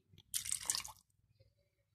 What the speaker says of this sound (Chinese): 电饭锅里面加一点适量的水